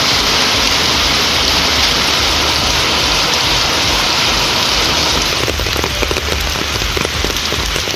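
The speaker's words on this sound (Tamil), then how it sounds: "நாகை மாவட்டம் திருக்குவளை சுற்றுவட்டாரத்தில் கனமழை பெய்தது." Heavy rain pours down steadily around Thirukkuvalai in Nagapattinam district, a dense, loud, continuous hiss with scattered drops pattering on surfaces near the end, and no voices.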